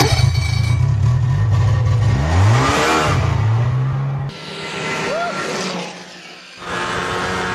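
A motorcycle engine revs while being ridden near Urumqi in Xinjiang, its pitch climbing and dropping through several throttle swells, loud and close, with a brief quieter dip and rushing wind noise around it.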